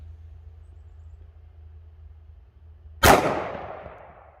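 A single sharp shot cracks from an NAA Black Widow .22 Magnum pocket revolver fired past a chronograph 15 feet away. It breaks a quiet, faintly humming stretch and leaves a short decaying ring.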